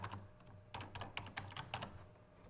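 Fingers type on a computer keyboard at a desk, with a run of close, light, irregular keystrokes clattering alone for a couple of seconds.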